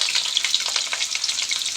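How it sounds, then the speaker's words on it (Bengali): Potato pieces frying in hot oil in a pan, a brief close, bright crackling sizzle with quick popping spatters, fairly quiet and without voices. "তেল গরম হয়ে গেছে, এবার আলুগুলো দিয়ে দেব।"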